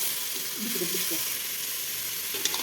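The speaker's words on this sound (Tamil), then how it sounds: "இப்போ தக்காளியை போட்டாச்சு இப்போ நான் வதக்கிக்கலாம்" Tomatoes sauté in a pan for tomato rice, a continuous close sizzle and hiss with some brief stirring scrapes, heard alone without speech.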